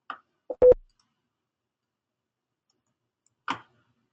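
Computer mouse clicking while saving a web page: a quick pair of sharp clicks near the start, then a single click about three seconds later, otherwise quiet.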